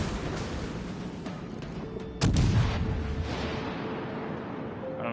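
Battleship shells firing in World of Warships, a single deep heavy boom landing midway over a steady rumbling naval battle backdrop, fairly loud and near.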